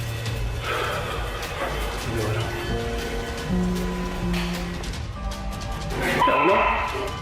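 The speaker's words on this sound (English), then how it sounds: "his dog goes on full alert" A dog on full alert during a ghost-hunting session yips, whines and barks in short repeated bursts indoors, fairly close, over a constant background hiss.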